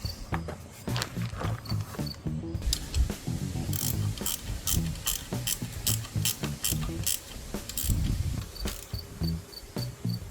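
Hand ratchet snugging the bolts on a Holley Street Demon carburetor on a C3 Corvette, rapid quiet clicking in bursts with short pauses, close and without talk.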